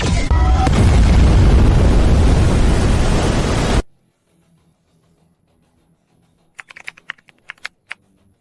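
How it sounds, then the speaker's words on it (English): A high energy laser main cannon fires with a loud, sustained roaring blast of explosion lasting several seconds. It cuts off abruptly to near silence, broken only by a few faint sharp clicks. "High energy laser main cannon charged."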